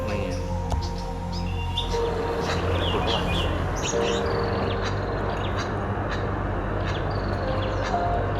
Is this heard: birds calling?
yes